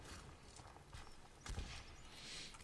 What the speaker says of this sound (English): Random horse. Hello, random horse.